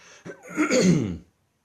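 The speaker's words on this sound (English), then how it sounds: "excuse me, I'm going to cough." A single close, rough cough, brief and throaty, followed by silence.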